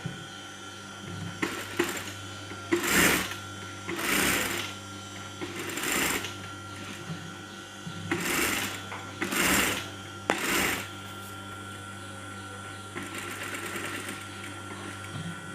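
A sewing machine stitches the folded edge of a kameez neck band in several short bursts of rapid whirring, separated by pauses. It is close and fairly loud, with a faint steady hum beneath.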